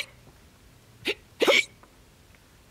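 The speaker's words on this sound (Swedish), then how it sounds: "Och sen fick Fy hicka." A person's hiccups, two short sharp bursts a moment apart, fairly close and alone over quiet background.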